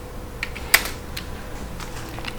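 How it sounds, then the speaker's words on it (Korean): Keys are pressed on a computer keyboard during SketchUp modeling work, a few sparse, close clicks with one sharper tap standing out, over a quiet background hum. "키보드 델키로 지우면 내가 원하는 모양만 남게 됩니다"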